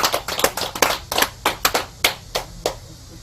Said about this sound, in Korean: 우리 해탈신 보살님께 다시 한번 박수 한번 주세요